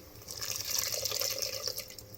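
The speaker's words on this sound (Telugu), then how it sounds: "ఇప్పుడు చూడండి ఈ చింతపండు పులుసు పోసేసుకుంటున్నానండి" Tamarind juice pours into a pot of boiling curry in a village kitchen, giving a steady, soft liquid trickle and bubbling with faint drips, close and quiet, with no talk.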